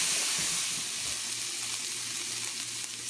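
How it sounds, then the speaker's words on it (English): Vegetables sauté in coconut oil in a pan on a stovetop, giving a steady, close sizzle and hiss that runs without a break, with faint stirring scrapes and no voices. "So I'm just going to let this saute depending on your stove."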